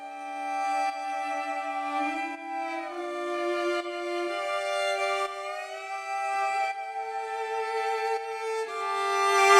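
Sustained string section playing a slow legato song intro, layered bowed tones shifting chords smoothly and swelling louder toward the end, with no voices.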